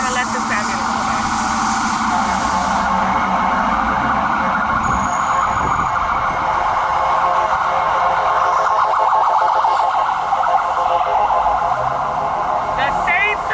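An ambulance siren wails continuously on a city street near the Brooklyn Navy Yard, loud and close throughout as it passes, with traffic noise beneath and no speech.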